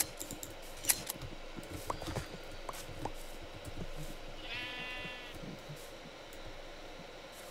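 A sheep in Minecraft gives a single wavering bleat midway, over background clatter, soft hoof-like clicks and scattered ambient noise.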